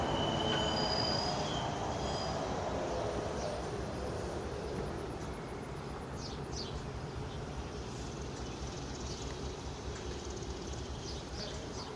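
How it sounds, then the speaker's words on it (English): A hi-rail maintenance vehicle runs along railroad tracks, a steady rumbling rattle of wheels on rail with faint high squeals, continuous and moderately distant. "here's the shot of a high railer"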